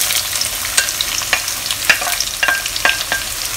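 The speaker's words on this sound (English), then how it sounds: "Now frying this over medium to low heat." Sliced shallots fry in oil over medium-low heat, a steady crackling sizzle broken by a few sharper spatula scrapes and clinks against the pan, with no talking.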